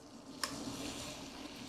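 Pork chops frying in hot oil in a pan, a faint steady sizzle with a small pop near the start, close and quiet.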